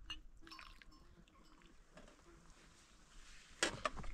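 Water is poured onto something in a nomadic household: a soft liquid splash and trickle with a few drips, fairly quiet, followed by a sharper clatter near the end.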